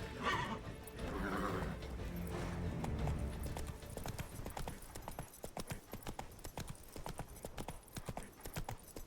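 Horse hooves clip-clop steadily at a gallop in The Witcher 3: Blood and Wine, with a whinny early on and a dense, loud rhythmic beat continuing alone throughout.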